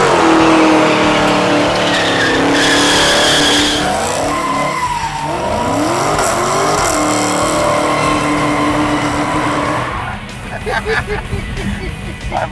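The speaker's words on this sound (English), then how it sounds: "someone's been doing burnouts in your parking lot" Loud, continuous tire squeal from a burnout by a 1968 Dodge Charger fitted with a 707 hp Hellcat engine, with the engine roaring under it for about ten seconds before it drops off, leaving rougher engine noise.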